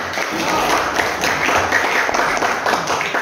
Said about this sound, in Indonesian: kasih aplaus buat kelompok